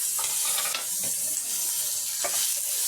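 Chopped tomatoes sauté in a pan for rasam, a soft continuous sizzle with faint stirring scrapes and small bursts, heard at moderate distance with no speech over it.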